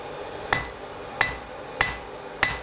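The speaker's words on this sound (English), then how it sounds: "That misaligned hammer there sounded so different. It didn't have the ring. It was a kind of chink." Four evenly spaced hammer blows strike hot iron while a nail is forged by hand, each a sharp metallic impact with a bright, lingering ring, close and clear against a quiet background.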